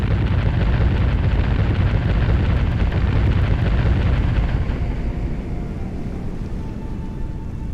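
Massive 41 cm main guns of a computer-generated 500,000-ton battleship fire in a heavy, sustained roaring blast, loud and broad, easing slightly toward the end with a lingering rumble.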